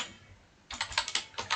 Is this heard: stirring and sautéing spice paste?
no